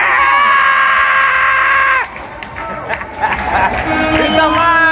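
A group of people screams loudly together under a bridge, a sustained shrill chorus that cuts off abruptly, followed by laughter and excited chatter.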